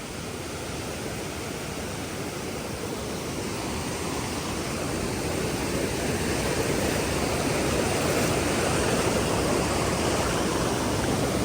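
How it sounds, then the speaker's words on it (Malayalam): Water pours down from above at Kappimala Waterfalls in Kannur district, a loud, steady, unbroken rush that fills the whole scene without any voices. "ഇത് ഇതിൻ്റെ മുകൾ ഭാഗത്തുനിന്ന് ഒഴുകി വരുന്ന വെള്ളം"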